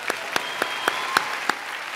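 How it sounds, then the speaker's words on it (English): Applause from a crowd at a spring college graduation ceremony, a steady bed of clapping punctuated by several sharp, louder individual claps close by, spaced irregularly through the short stretch, with no talking. "Let's give them a round of applause."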